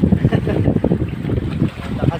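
Strong sea waves slap against a small boat in rough water, a loud continuous churning wash with wind buffeting the microphone and someone talking now and then.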